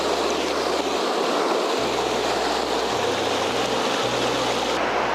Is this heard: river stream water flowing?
yes